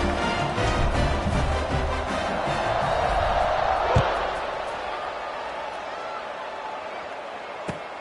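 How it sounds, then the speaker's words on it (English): A football stadium crowd cheers and buzzes after a touchdown, a broad, steady roar that slowly eases off under a commentator's voice, with a sharp thud partway through. "this crowd is buzzing after that last score"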